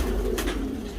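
A fancy pigeon gives a brief, low, steady coo close by, a single short murmuring call with no voices over it.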